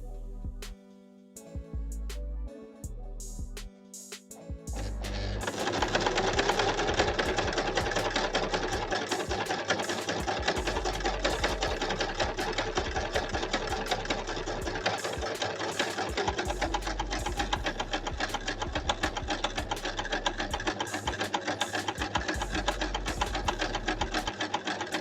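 A sewing machine stitches a beginner's practice buttonhole, starting with a few slow separate needle strokes, then running into a fast, steady, close mechanical chatter that carries on without a break.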